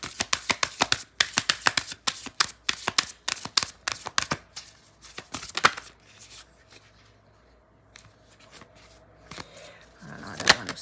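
Oracle cards are shuffled with rapid crisp riffles and slaps close by, then go quiet before a few soft cards are drawn and handled at the end.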